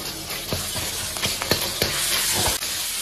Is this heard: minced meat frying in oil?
yes